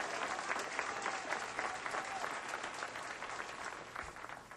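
Steady applause from a crowd at a PBA bowling tournament in Atlanta, a dense continuous clapping that stays even throughout with a faint murmur beneath.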